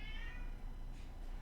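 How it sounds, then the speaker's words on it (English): A cat gives a single drawn-out meow, fairly faint over a steady background hum indoors. "he's just meowing away, isn't he?"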